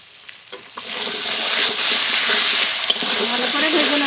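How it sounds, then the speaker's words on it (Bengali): Potatoes frying in a pan with salt and turmeric, a close, loud crackling sizzle that swells after a quieter start, with brief stirring clinks and a faint voice underneath. "আলু খুব ভালো করে ভেজে নিয়েছি"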